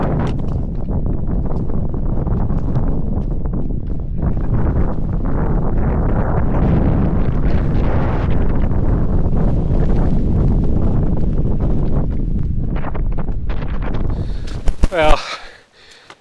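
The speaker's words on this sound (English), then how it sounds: "The wind is horrendous." Strong gusting wind on an exposed Scottish mountain roars steadily against the microphone, loud and continuous, then cuts off abruptly near the end.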